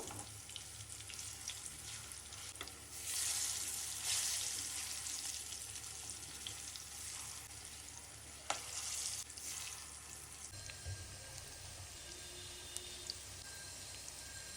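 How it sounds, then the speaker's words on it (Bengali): Jackfruit kofta balls fry in oil, making a steady sizzle. A louder bubbling stretch comes early, with a single sharp knock midway. "আর একইভাবে কাঁঠালের সব বলগুলোই ভেজে নিব"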